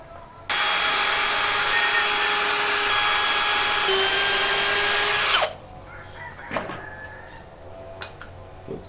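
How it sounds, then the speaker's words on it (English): A power drill whines loudly and steadily for several seconds while drilling holes in a piece of wood, then cuts off abruptly, followed by quieter clicks and handling noises. "I'll continue drilling these holes in the piece of wood"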